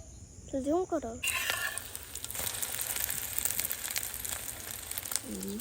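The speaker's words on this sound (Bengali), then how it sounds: "আমি এখন নাস্তা করব ডাল আর হচ্ছে এটা ডিম ভাজা" An egg frying in a pan for breakfast in a village kitchen: a steady, close, crackling sizzle starts abruptly and carries on evenly, with a brief voice just before it begins.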